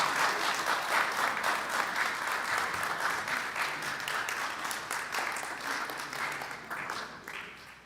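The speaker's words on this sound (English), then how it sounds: "So let's give our 2023 Rothko Chapel Óscar Romero awardees another big round of applause" Audience applause for the 2023 Rothko Chapel Óscar Romero Award recipients: dense, moderately distant clapping from a sizeable crowd, steady and unbroken before gradually thinning toward the end.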